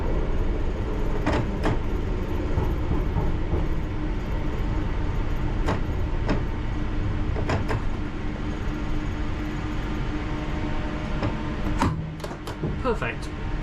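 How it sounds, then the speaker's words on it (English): A London Underground train brakes into King's Cross St Pancras, with a steady rolling rumble and sharp metallic squeals near the end. Someone talks over it from the cab. "Slightly higher braking coming into here."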